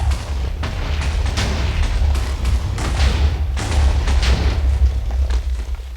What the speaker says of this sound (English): Let's just blow this up as a little bonus part